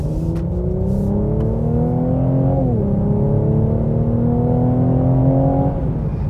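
A 2017 Mercedes-AMG E 43 pulling hard on a back road, engine note climbing steadily, dipping briefly at a gear change, then rising again, loud and smooth from inside the cabin.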